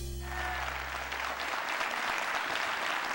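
Crowd at a 2007 US Open pool tournament final in Lincoln, Rhode Island, breaking into warm sustained applause, loud and close, after a brief low hum at the start.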